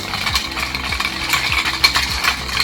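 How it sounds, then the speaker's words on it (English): Ice clinks and rattles as a bourbon lavender Manhattan is stirred in a mixing glass with lavender syrup and sweet vermouth, a steady, close, rhythmic scraping and tinkling with no talk. "Stir to infuse the lavender syrup, the sweet vermouth, and the bourbon."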